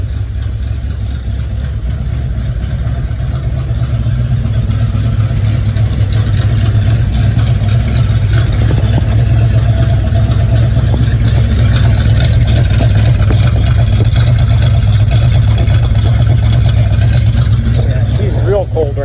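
A 1980 AMC Spirit AMX engine idles right after a cold start in a garage, producing a loud, steady, low rumble that runs unbroken and close for the full length.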